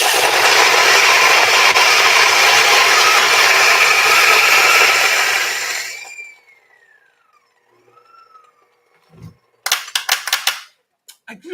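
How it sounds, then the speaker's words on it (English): A coffee grinder set to a fine setting grinds 20 grams of coffee beans, a loud steady whirring roar for about six seconds that then winds down, followed by a few sharp taps and knocks. "20 grams of coffee. Now we're going to put that in our grinder."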